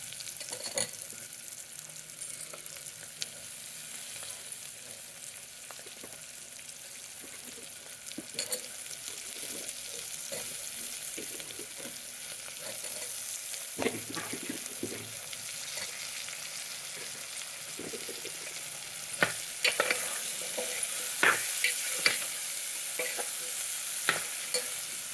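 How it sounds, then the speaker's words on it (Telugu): Bitter gourd (boda kakarakaya) frying in a pan with no tamarind sauce, a steady close sizzle running throughout with occasional stirring scrapes and clinks, growing busier toward the end, no talking. "ఉత్తగానే ఫ్రై చేస్తా"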